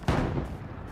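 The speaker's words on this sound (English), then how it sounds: "I hear those fucking bullets." A single sharp gunshot from World War II combat in the online shooter Hell Let Loose, a loud close crack followed by a short rumbling tail and faint distant fire.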